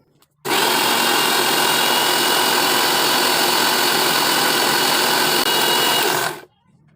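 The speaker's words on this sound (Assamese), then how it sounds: "এতিয়া শাকখিনি মিক্সিত গুড়ি কৰি ল'ম।" A mixer grinder blends spinach in its jar for spinach soup, a loud, steady whirring roar that starts abruptly, runs for about six seconds, then cuts off, with no voices.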